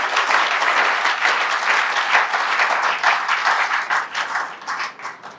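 A crowd at a political rally launching the new UGN party applauds and cheers steadily, a dense, loud wash of clapping that thins slightly toward the end.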